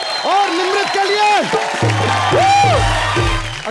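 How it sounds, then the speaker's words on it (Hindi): A TV comedy show audience applauds Akshay and Nimrat, steady clapping mixed with whoops and cheering, while voices ring out loudly over the crowd throughout. "जोरदार तालियां अक्षय सर और निमृत के लिए"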